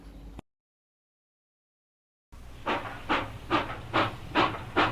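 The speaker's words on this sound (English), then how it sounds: "beaten out by the puff, puff, puff, puff of the locomotive" After a brief silence, a steam locomotive chuffs in a steady rhythm, about eight sharp hissing puffs over a low mechanical rumble, growing slightly louder.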